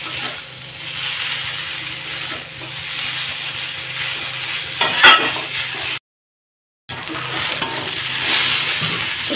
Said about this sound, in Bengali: তো এখন বেশ সুন্দর নাড়াচাড়া করছি